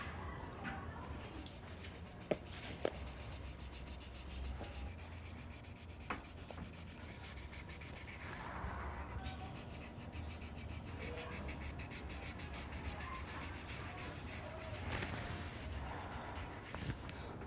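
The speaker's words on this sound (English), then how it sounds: "using the pencils, shade in the part that you will eat" A pencil shades on paper, a quiet, continuous scratchy rubbing close by with occasional small taps, faint overall and with no talking.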